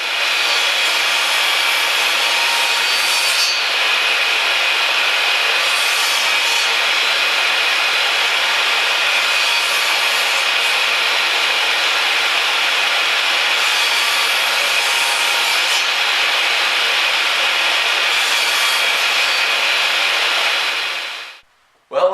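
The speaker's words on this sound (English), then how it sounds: "table saw, and we'll go ahead and start cutting out the grooves" Table saw cutting grooves in wood for a DIY vanity mirror build, a loud continuous whining whir held steadily for about twenty seconds, then abruptly cutting off at the end.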